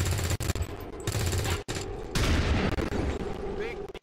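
Gunfire in XCOM 2 Long War of the Chosen: dense, loud bursts of rapid automatic shots rattle almost continuously, broken by a few brief gaps, with a voice talking over the shooting.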